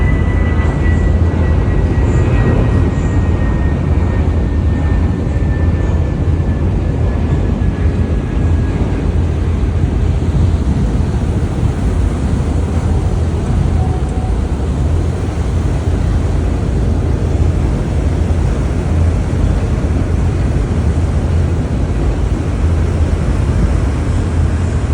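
A passenger ship's engine and propeller running, a loud, constant low rumble and churning wash that holds steady throughout with no talk.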